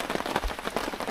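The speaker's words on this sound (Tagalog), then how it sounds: "Ulan pa rin." Rain falls steadily on a surface during tree house floor work, a dense patter of close, irregular drops at moderate level with no talk.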